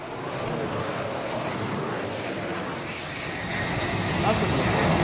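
A jet roars steadily on approach to land on the aircraft carrier Charles de Gaulle at over 250 km/h, a broad whooshing rush that swells slightly louder toward the end, heard alone without talk.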